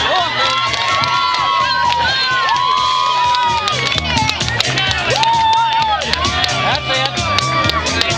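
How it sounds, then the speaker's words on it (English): Spectators at a jalapeño eating contest keep up loud, continuous cheering, with shrill shouts and whoops from many people, children among them, and some scattered clapping in the noisy babble. "Come on, I don't hear enough cheering out there."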